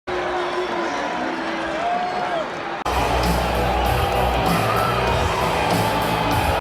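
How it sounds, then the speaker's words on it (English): A large crowd at a UFC event in Madison Square Garden cheers, yells and boos Trump, a loud continuous roar from a packed arena that swells sharply halfway through. "Trump was both cheered and booed as he entered Madison Square Garden to a UFC packed audience"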